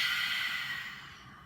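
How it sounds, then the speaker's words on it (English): A single big breath pushed out through the mouth, a loud close airy rush that trails off over about a second and a half, with no talking. "Big exhale through the mouth."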